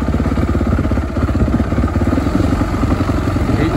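An ATV pulling a rock rake along a trail gives a loud, close, steady chugging engine drone with a rapid even pulse throughout.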